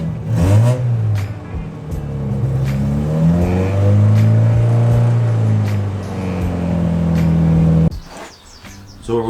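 A Mazda Miata engine revs up close and loud, its pitch climbing and sagging through several throttle blips before cutting off abruptly near the end.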